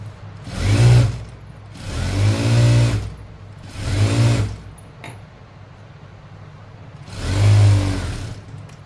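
A sewing machine stitches a pant seam, running in four loud whirring bursts of about a second each, with quiet pauses between runs and no speech.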